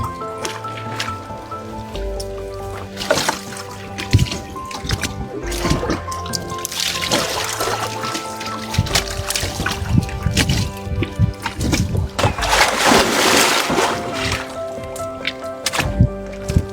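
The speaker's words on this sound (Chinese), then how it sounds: "再用这个草木灰把脸和头发洗一下啊" Water splashes and drips in bursts as a face and hair are washed with plant ash outdoors at a riverside fishing spot, louder splashing swelling midway and near the end.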